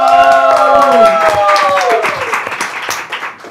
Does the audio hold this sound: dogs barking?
no